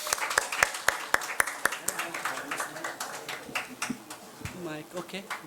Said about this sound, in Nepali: उहाँलाई हामी ताली बजाएर स्वागत गर्नेछौँ यो समय